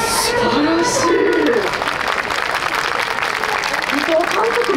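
Audience applause at a SUPER GT team-director talk show at the Fuji Speedway event plaza, a steady patter of clapping heard under an ongoing voice with crowd murmur throughout.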